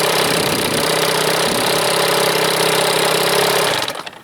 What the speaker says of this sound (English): I like my motor idling a little bit faster.